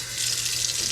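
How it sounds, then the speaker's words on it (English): Water pours in a short, steady splashing stream onto a Grindal worm culture, close and clear with no voices. "Just give it a little water over here."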